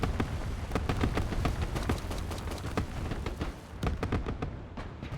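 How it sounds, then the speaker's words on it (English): Grenade blasts from AGS-30 launchers in the strategy game Broken Arrow, a dense stream of sharp pops and thuds pounding steadily through the whole stretch with a rumbling battlefield bed beneath, no voices. "Ton of grenades."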